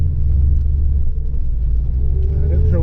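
Low, steady engine rumble from the idling Lotus Carlton estate, a deep continuous drone heard close up from inside the car, with a voice talking over it.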